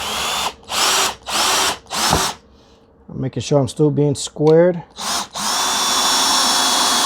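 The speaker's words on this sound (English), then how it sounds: "Excuse me for the loud noise of my drill" A power drill drives screws into a custom Kydex press in several short bursts, then a person speaks briefly before a couple more loud drill bursts follow, close up.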